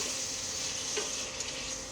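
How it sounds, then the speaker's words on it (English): Chicken sizzles steadily in hot oil with lajiao chilies and ginger while being stirred, a dense close-up frying hiss with faint scraping, no voices. "our chicken has been frying for a couple minutes with that Lajiao and all that ginger"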